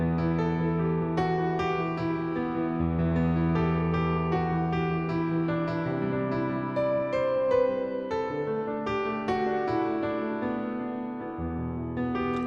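Lily White piano passed through an SSL compressor preset, a flowing run of chords and melodic notes with sustained resonance, steady in level and heard alone without speech.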